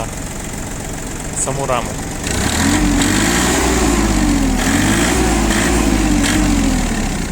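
Iseki mini tractor engine with a tiller, idling then revving up as the throttle pedal is pressed, a steady close mechanical drone with slight rises in pitch, under brief speech.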